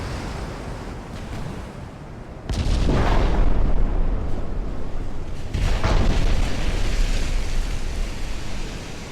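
Heavy naval gunfire striking a warship in a 1910-era Ultimate Admiral Dreadnoughts sea battle: two loud booming impacts that roll into a sustained roar of sea and wind.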